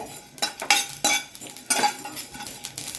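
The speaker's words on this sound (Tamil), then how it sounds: "சவுண்டு வந்து பாருங்கள், எள்ளு சவுண்டு" Sesame seeds roast in a hot pan, crackling and popping in irregular bursts with metallic scraping and clinks of a spoon stirring against the pan, close and loud with no talking.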